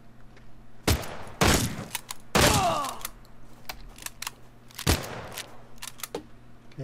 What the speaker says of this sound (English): Heard someone shooting at me.